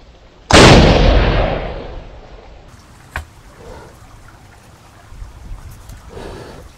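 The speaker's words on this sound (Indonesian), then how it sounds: "Kita panasi juga mercon spiritus buatannya bocil dari kaleng susu" A homemade spirit-fuelled firecracker made from a milk can goes off outdoors with a single loud, close blast, followed by a decaying roar and rumble, then a sharp smaller crack and faint rustling afterward.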